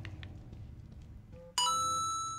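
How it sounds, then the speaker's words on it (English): A phone notification plays the Mario coin-collect tone, a bright two-note chime that rings out and decays after a brief stretch of low background noise. "It's Mario collecting a coin on my personal phone"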